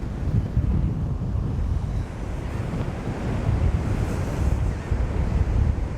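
Rough ocean surf breaks in continuous sets along the beach at Padre Island National Seashore, a loud, steady roar of crashing water mixed with gusting wind buffeting the microphone.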